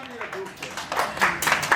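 Applause for a couple celebrating their 25th wedding anniversary, a crowd's clapping rising in bursts and swelling toward the end, mixed with voices and cheering from the audience.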